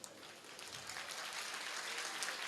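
A crowd at a Hindi poetry and song event claps steadily, a dense, even wash of applause that holds for a couple of seconds.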